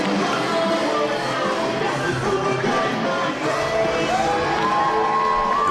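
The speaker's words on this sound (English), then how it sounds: "The crowd firmly behind Jordan Falco here" Arena crowd at a wrestling ladder match cheers and shouts in a dense, sustained roar, loud and continuous throughout.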